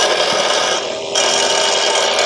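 A mini table saw makes a test cut through wood in a workshop, giving a loud, steady, rasping whine that stays close and continuous, with a brief dip partway through and no speech.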